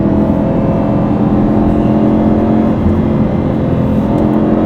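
Porsche 997 Carrera 2S engine revving hard in second gear toward about 7,000 rpm, a loud, steady, dense mechanical roar held throughout with no voices.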